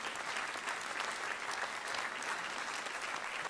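An audience claps loudly and steadily at a classical concert given by the Romantica orchestra, a dense even wash of applause with faint voices beneath.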